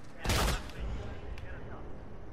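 A single loud shotgun blast in Modern Warfare, a sharp broadband boom that lasts about a quarter second and leaves a short rumbling tail, followed by fainter clanks, with voices nearby.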